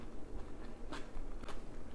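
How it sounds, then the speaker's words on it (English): Crisp crunching from biting into a scallop and onion Korean pancake, close to the mic, a couple of sharp bursts over a quiet background. "you could hear the crunchy sound of the vegetables through the microphone"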